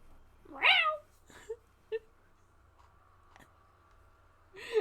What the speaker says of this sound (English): Nurse was very indignant meowing at that.